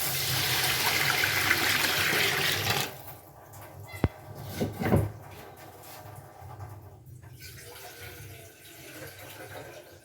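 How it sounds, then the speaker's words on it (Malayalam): Water poured from a vessel into a pot of mixed chicken biryani, a short splash and trickle that quickly fades after a louder stretch of kitchen noise, fairly quiet and close. "മാറ്റി വെച്ച വെള്ളം ചേർക്കാം."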